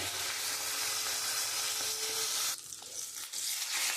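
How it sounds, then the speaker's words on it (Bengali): Rohu fish heads sizzle in hot oil in a home kitchen, a dense, steady crackle close to the pan, with a brief stir or shift partway through softening the hiss before it returns. "এই মাছের মাথাগুলো ভেজে নেব আমি লাল লাল করে মাথাটা একটু ভেজে তুলে নেব"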